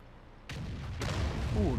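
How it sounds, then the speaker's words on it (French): A World of Tanks artillery piece fires, a heavy boom followed by a second blast and a rumbling tail, with a voice briefly speaking near the end. "ce shoot magnifique de l'artillerie qui a malheureusement raté son tir"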